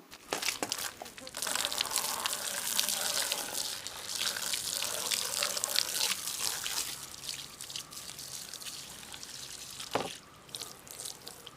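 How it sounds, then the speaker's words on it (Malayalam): Water splashes and runs continuously over a cooling fan being rinsed, with crinkling and dripping sounds close by. "ഈ ഒരു കൂളിംഗ് ഫാൻ ഞാനിവിടെ വെള്ളം ഒഴിച്ച് കഴുകുന്നുണ്ട്"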